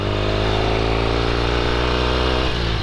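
A 1972 Norton Commando motorcycle engine runs loud and close as the rider downshifts while slowing, its steady harmonic drone stepping down in pitch with a brief shift near the end, no talking.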